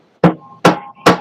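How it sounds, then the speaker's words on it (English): Three sharp, evenly spaced hammer blows ring out close and loud, each with a brief metallic ring-off between strikes. "hammering away over there"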